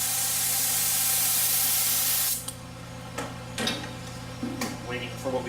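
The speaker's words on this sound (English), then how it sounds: "I'll spray the activator on here." A hydrographics activator is sprayed onto floating film for camouflage on Warhammer 40k scale vehicles: a loud, steady hiss of spray for about two seconds, then it cuts off, leaving scattered clicks and small handling knocks.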